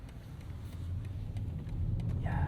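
Low engine drone from a 2023 BMW 760i xDrive with a forced-induction V8, heard from inside while driving, a smooth muted hum that swells slightly toward the end, with no talk.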